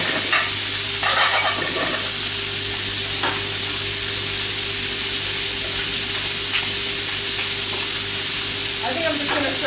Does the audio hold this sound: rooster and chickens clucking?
no